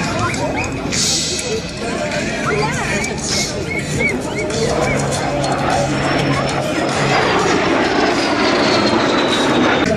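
Aircraft of the Fly and Fun aerobatic patrol landing at an airshow, a steady, fairly loud engine drone with crowd murmur and an announcer's voice running over it throughout.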